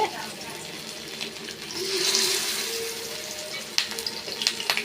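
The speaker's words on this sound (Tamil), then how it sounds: "இப்போ நம்ம மீன் தான் வறுக்க போகிறோம் எண்ணெய் நல்லா ஹீட் ஆகிடுச்சு" Fish frying in well-heated oil sizzles and crackles, swelling into a louder hiss midway, then breaking into sharp popping spatters toward the end.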